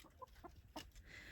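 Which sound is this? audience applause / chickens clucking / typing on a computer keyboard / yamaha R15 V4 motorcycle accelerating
chickens clucking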